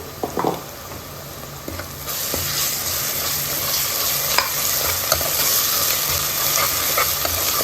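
Sliced onions with salt and ginger garlic paste frying in a pan for a spicy goat head curry, a steady close sizzle with occasional scraping stirs and sharp ticks, no voices.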